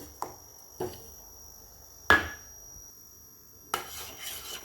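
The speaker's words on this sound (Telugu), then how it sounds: "ఇప్పుడు కలిపి పెట్టుకున్న రాగిపిండిని యాడ్ చేసుకుంటూ కలుపుకోవాలి" Ragi flour being stirred into melted jaggery in a pot, heard as a few separate clinks and scrapes of a spoon against the pot with quiet stretches in between, no voices.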